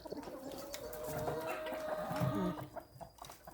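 Several chickens cluck and murmur nearby in a busy, uneven chorus, with soft outdoor background noise.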